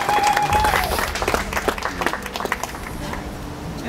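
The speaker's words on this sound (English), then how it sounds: "Please clap for him." Wedding guests applauding during a ceremony at a castle, a brief burst of clapping from a gathered crowd that tapers off into scattered claps and murmuring.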